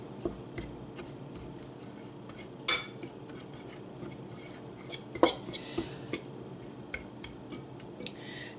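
Utensil scraping and clinking against a bowl while crumb ingredients for a Pennsylvania Dutch shoofly pie are mixed, a quiet, irregular series of light metallic taps and scrapes, close by, with no talking.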